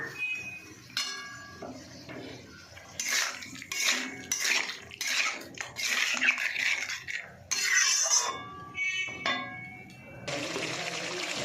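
Water from a rinsed cumin bowl is tipped into a cooking pan, with splashing pours broken by clinks and scrapes of the metal bowl and utensils against the pan, close by and fairly loud.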